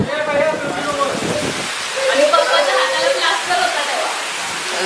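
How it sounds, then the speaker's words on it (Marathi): Heavy unseasonal rain lashed by strong wind over a farm beside a river, a broad roaring wash of rainfall and gusts heard close and loud, with a person talking over it. "आणि पावसाने किती जोर धरला."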